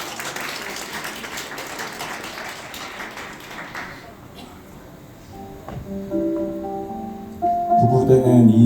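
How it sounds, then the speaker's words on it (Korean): Wedding guests clap in a moderate, steady burst that fades out midway, followed by quieter room sounds and a music cue starting toward the end. "다시 한번 큰 박수 부탁을 드리겠습니다"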